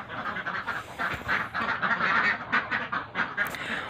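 A flock of laying ducks quacks in a farm pen, loud and close, overlapping calls in uneven bursts that continue without pause.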